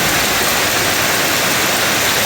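Rainwater dripping and spilling from roof tiles during a summer shower, a steady, dense broadband wash of falling water close by with no distinct individual drops, continuous and unchanging throughout.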